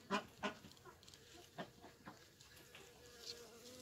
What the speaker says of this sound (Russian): Смотрите, все в пчелах.